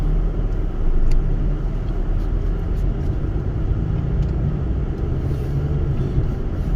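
Steady low engine and road rumble from inside a moving car on a drive from Dublin to Mayo, constant and close, with no talking.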